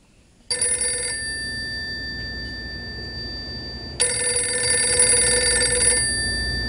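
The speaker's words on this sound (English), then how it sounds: "My phone in the hotel room rings" A telephone rings in a hotel room, sounding as two bursts of bright electronic trilling, one short and one longer after a pause, close and loud over a low room hum.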